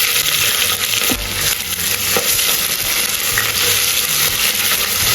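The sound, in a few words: onions frying in oil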